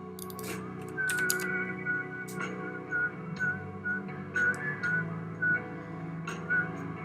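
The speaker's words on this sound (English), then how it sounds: "I start with the whistling." A person whistles a run of short, bright notes in an irregular rhythm, close and clear above a low, steady background hum.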